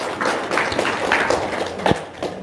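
A small group claps at a gathering, a couple of seconds of soft, uneven applause with a few louder claps near the end.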